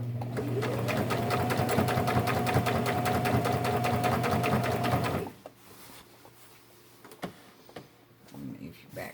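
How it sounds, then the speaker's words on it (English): A sewing machine stitches a jeans hem in a fast, steady mechanical run for about five seconds, then stops, leaving quiet handling sounds and faint movement. "you're just going to sew right along like that"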